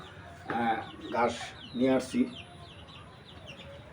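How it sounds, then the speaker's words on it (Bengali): Desi chickens cluck in a few close, short bursts while being fed cut grass, with someone talking over them. "মুরগিকে ঘাস দিতেছি, মুরগি ঘাসগুলো খাবে"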